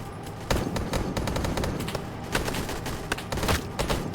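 Vehicle turret machine gun firing in the game Black Hawk Rescue Mission 5, a dense, loud rapid burst of gunfire that runs throughout with no pause.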